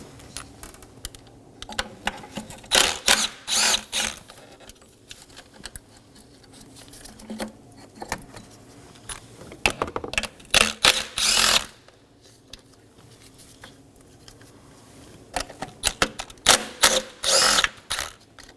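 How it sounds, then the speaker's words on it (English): A 10mm socket on an impact wrench rattles off bolts holding solenoids to a 3.5L V6 Nissan Maxima intake manifold, in short sharp bursts of hammering separated by quiet pauses, close by. "Now we're going to take a 10mm on a impact wrench and remove these 10mm bolts"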